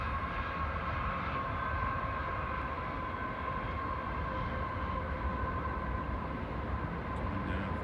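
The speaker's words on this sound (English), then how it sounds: "There's our train." A train rumbles past steadily, a dense low roar with a sustained hum running the whole time, no voices.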